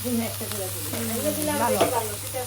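Kalla frying in a hot pan gives a steady, close sizzle that runs through the whole moment, with a voice talking over the crackle.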